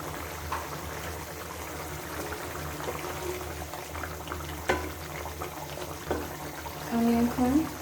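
Chicken curry simmering in a pan with cardamom, cinnamon and pepper added, giving a low, steady bubbling and sizzling with occasional sharper pops and utensil clicks; a voice speaks briefly near the end.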